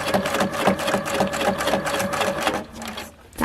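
A sewing machine runs steadily through free-motion stitching with a presser foot on scrappy fabric tags. Its rapid needle chatter repeats close and loud, dips briefly near the end, then starts up again.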